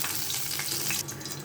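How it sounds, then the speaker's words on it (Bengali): Fish frying in hot oil in a pan, a dense close hiss of sizzling that holds steady over a brief moment. "এখন আর কিছুক্ষণ ভেজে নেব।"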